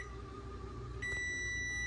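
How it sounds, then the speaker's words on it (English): An oven timer beeps as rolls bake, a single high electronic tone that switches on partway through and holds steady over a constant background hum. "So the rolls are in the oven, that's the timer."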